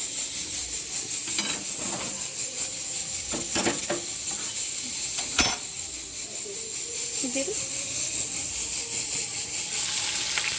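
Bay leaves sizzle in oil heating in a kadai for a chicken masala, a constant frying hiss with scattered clinks and scrapes and a faint voice in the background.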